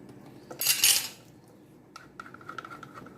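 A metal spoon mixes pizza sauce with coriander powder and oregano in a bowl, giving a short loud burst of clinking and scraping followed by lighter intermittent taps against the bowl.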